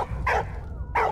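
A dog in the video game Valiant Hearts: The Great War gives two sharp, close barks about half a second apart, each with a short whining tail.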